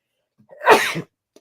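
A single sharp sneeze bursts out close by, preceded by a brief quick intake of breath.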